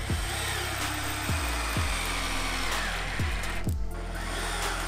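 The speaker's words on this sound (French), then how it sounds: "on prend les vis et on visse ça" A power tool drives screws into an OSB 3 sheet laid over a wooden skate ramp hump, its motor whirring steadily and loudly throughout, with several sharp low thumps as screws bite and seat.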